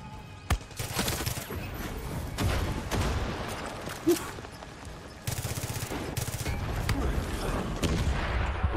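Gunfire and explosions in the video game Far Cry 6, with repeated sharp shots, bursts of rapid fire and several heavy booms layered over a dense, busy combat din.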